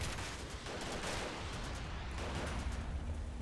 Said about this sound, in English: we're going to fire rockets